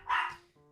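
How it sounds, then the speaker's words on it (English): A dog gives a single short bark from a home setting. The bark is close and fairly loud, followed by a faint tonal hum. "Dog agrees. Dogs agrees."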